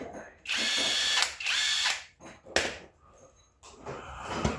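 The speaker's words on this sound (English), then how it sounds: "I got the impact gun down here" An impact gun drives a bolt in a series of loud, close bursts of rattling, hammering whir, with a few short pauses between bursts and no talking.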